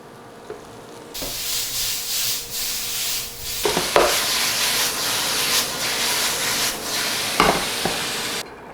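Beef for lomo saltado hits hot olive oil in a pan and erupts into a loud, close sizzle that holds steady, punctuated by scraping stirs, then cuts off abruptly near the end.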